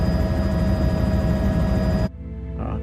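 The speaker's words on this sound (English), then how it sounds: "They went out with their helicopter." A helicopter flying overhead in a flood area, a steady droning rotor and engine hum with a fixed tonal whine that cuts out abruptly near the end, leaving quieter background sound.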